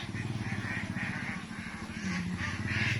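A flock of farm ducks (itik) on a roomy open farm, continuous overlapping quacking and honking close by, with many birds calling at once.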